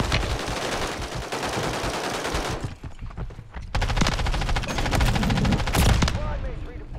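Rapid automatic gunfire in Call of Duty rattles loudly in long bursts, broken by a short lull before more firing resumes, with voices talking over the shooting.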